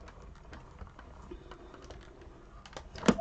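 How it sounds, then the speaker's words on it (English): Die cutting machine cranked back and forth with intricate dies through cardstock, a soft steady mechanical rolling with faint clicks and a sharper creak near the end. "with intricate dies, I do wind them back and forward a few times just to make sure I get a good clean cut on my cardstock"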